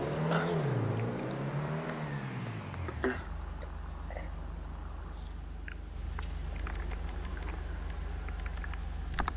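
An Obey 10F sports car engine in GTA Online revs up and down in rising and falling sweeps, then settles into a steady low idle hum, close and alone without talk.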